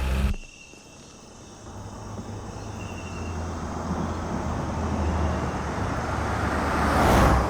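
A car pulls away on a road at night, its engine noise rising steadily over several seconds after a brief loud onset, with crickets or insects chirping in the background and no talk.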